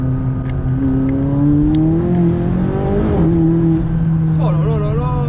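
McLaren 570S tuned to 790 horsepower and fitted with an Armytrix exhaust, its engine revving loudly with a droning tone that climbs and falls, while people talk over it close by.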